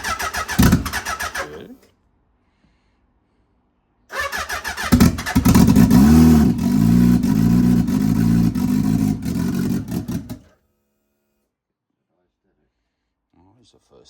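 A Suzuki Hayabusa turbo motorcycle engine starts for the first time. A short burst cuts out, then after a pause the engine catches and runs loudly with several revs for about six seconds before shutting off. Talking can be heard.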